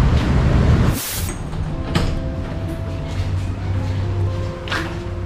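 An LRT train runs along a newly built elevated rail line in Palembang, a steady low rumble and rolling hum sustained throughout with brief brighter swishes and clunks, moderately loud and without talk.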